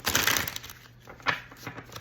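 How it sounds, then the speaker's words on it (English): Oracle cards shuffled by hand during a card reading, a close, papery rustle and riffle that starts busy, then thins into a few soft flicks and slaps. "Let's do two more shuffles."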